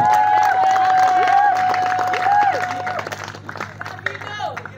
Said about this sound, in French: Est-ce qu'on peut les applaudir très très fort?